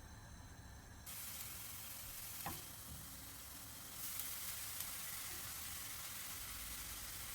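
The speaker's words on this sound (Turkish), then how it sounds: "Yağ ısındıktan sonra rendelediğim havuçları ekliyorum." Grated carrots hitting hot olive oil in a pan give a quiet, steady sizzle and hiss after a brief opening hush, with a small clatter partway through and no voices.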